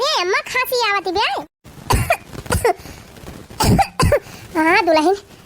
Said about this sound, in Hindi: अरे अम्मा खांसी आवती बे।